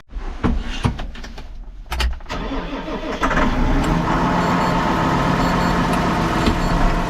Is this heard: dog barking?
no